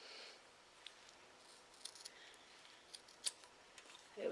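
Scissors snip at a table decoration in a few quiet, separate clicks, close by, with soft rustling between the cuts.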